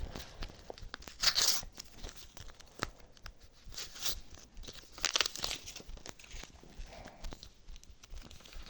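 A paper surprise packet being torn open and handled, with bursts of crinkling and ripping paper near and close, loudest around one and five seconds, between quieter rustles.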